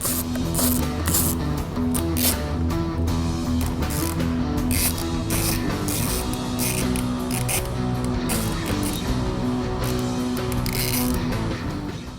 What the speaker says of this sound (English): You can use either a flathead screwdriver or a 7mm socket to remove these hose clamps.